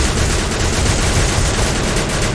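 Dense, continuous gunfire from a Free Fire zombie mode match roars loudly without a break, rapid shots blurring into a steady wall of noise.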